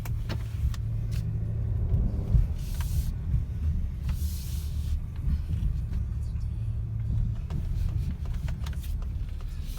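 A 2020 Ford Explorer ST rolls around the block, its low road rumble and tire hiss steady from inside the cabin, with faint clicks and a brief swell in engine note early on.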